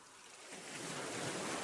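Ocean waves washing in, a soft rushing surf that swells from quiet to a fuller, steady wash, faint and distant with no voices.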